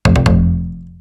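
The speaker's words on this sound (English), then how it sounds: "it's going to be a massive delay that's actually going to be rising up." A loud, bright psytrance synth pluck hits with three quick echoing rising delay repeats, then its low body decays over about a second.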